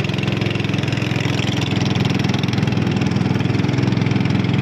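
A motorcycle engine drones steadily and close by on a riverside ride, a continuous mid-pitched puttering hum with fast, even pulses that holds at an unchanging loudness throughout.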